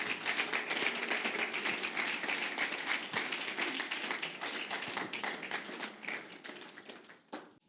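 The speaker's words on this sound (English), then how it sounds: "please let's receive with a huge round of applause, Dr. Raymond Atuguba." An audience applauds a speaker arriving at a lecture on leadership in Africa, a dense, sustained round of clapping that fades out near the end.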